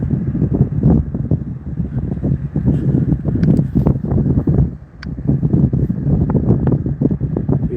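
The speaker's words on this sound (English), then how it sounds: "the wind is consistent" Strong wind buffets the microphone on a very cold day, a continuous low rumbling roar with gusty swells and a brief lull partway through, loud and close.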